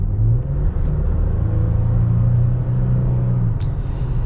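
A 2021 Toyota Tacoma TRD Off-Road pickup accelerating in automatic mode, a loud, steady engine drone and rumble from inside the cab that holds for several seconds, with no talking.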